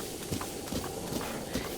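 Horse hooves clip-clop steadily in the Breath of the Wild video game, a regular trotting rhythm of soft thuds over a constant wash of ambient game sound.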